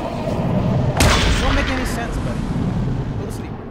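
Gunfire in the video game Batman Arkham City: a loud, sharp blast hits about a second in and gives way to a dense, sustained roar of shots and rumble.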